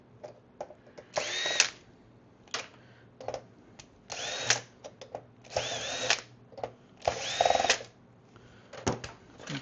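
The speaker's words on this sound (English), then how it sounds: "I'll take these two screws out." Two screws being backed out of a PS5 console with a power driver, heard as several short whirring bursts of a couple of seconds each, separated by quiet clicks and handling noise, close and fairly soft, with no talking.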